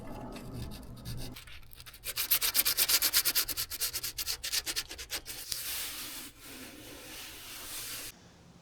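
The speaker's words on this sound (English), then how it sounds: "Anywhere you see scratches, I'm gonna sand down around it" Hand sanding around scratches in Dodge Ram 1500 truck paint before primer, base coat and clear coat: rapid rhythmic back-and-forth scrubbing strokes, close and fairly loud, in a burst of several seconds between quieter stretches.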